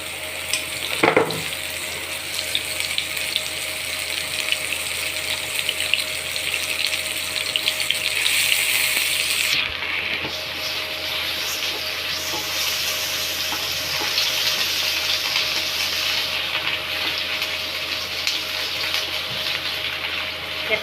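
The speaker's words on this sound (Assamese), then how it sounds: "প্ৰথমতে মই মাছৰুমখিনি ভাজি ল'ম।" Mushrooms frying in raw mustard oil in a pan, a steady loud sizzle running throughout with occasional stirring and a brief clatter, no talk.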